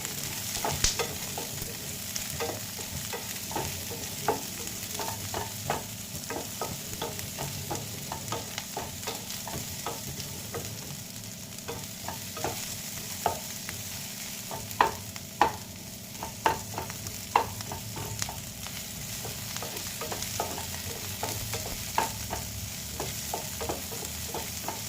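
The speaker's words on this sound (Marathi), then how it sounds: "लसूण आणि अद्रक घालणार आहे। त्याला पण आपण छान असं लालसर रंग येईपर्यंत भाजून घेऊया।" Garlic and ginger frying in oil in a pan while being stirred, giving a steady close sizzle with scattered scraping and stirring clicks throughout, no voices.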